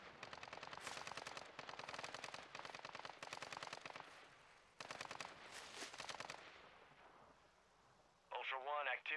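Sustained automatic gunfire rattles in a video game, with long rapid bursts of shots and brief breaks, loud and continuous, then a radio-like voice cuts in at the end.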